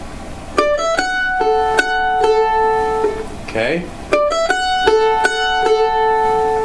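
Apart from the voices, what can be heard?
mandolin playing first chunk of fiddle tune Liberty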